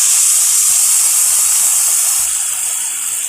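Water pours in a loud, continuous hissing stream from a one-litre jug into a pot of no-onion, no-garlic kurma, with a steady splashing rush close by and no talking.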